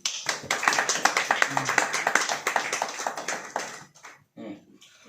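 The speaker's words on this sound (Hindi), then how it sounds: "ताली बजाइए" A congregation at a church gathering claps together in a quick, even rhythm for a few seconds, fairly close and loud, then the claps thin out into a few scattered ones and fade.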